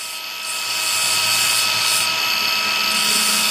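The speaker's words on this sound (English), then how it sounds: "this is just sanding, so it'll just be dust coming out" A drill fitted with a sanding disc grinds against a metal trailer-jack socket, a steady high-pitched whine with a dense hiss that holds loud and close throughout.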